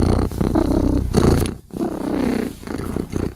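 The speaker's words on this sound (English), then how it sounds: "Because if Cat is purring, Cat is a happy, happy, happy freaking girl." A pet cat purrs close up, a loud, steady rumbling purr in repeated pulses with brief pauses, no talking over it.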